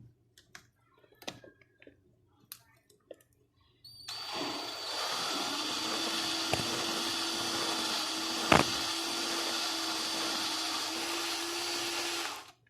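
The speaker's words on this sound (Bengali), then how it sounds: "আর আমার কাছে এই ড্রিল মেশিন রয়েছে। ড্রিল মেশিন না থাকলে আপনি হাতে করলেও হবে। তো আমি অল্প, খুবই সামান্য পরিমাণে এটা ড্রিল করে নেব।" An electric drill bores a small hole in a propeller with a 3.25 bit, starting after a few quiet clicks and handling noises and then whining steadily and close for about eight seconds before stopping.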